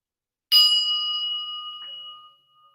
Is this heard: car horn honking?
no